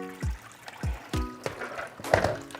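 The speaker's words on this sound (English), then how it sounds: "Let's rinse this bowl out" Water splashing and trickling while a bowl is rinsed out after washing peeled beans for moi moi, in a series of close, distinct gurgling spurts and drips.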